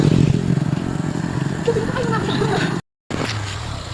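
A motorcycle engine drones steadily and close while someone rides it alongside people out jogging, the engine rumbling low under voices talking, broken by one brief dropout.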